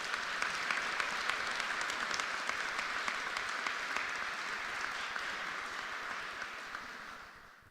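An outdoor crowd claps a round of applause at a school campus ribbon cutting ceremony, steady moderate clapping from a distance that fades out at the end.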